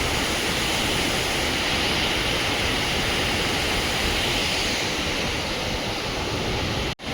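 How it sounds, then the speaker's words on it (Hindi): Rupiwala waterfall in the monsoon hills, a continuous loud broadband rush of falling water, close and steady throughout, with no voices. "ये मेरे पीछे रहा देखिए दोस्तों रुपीवाला वाटरफॉल"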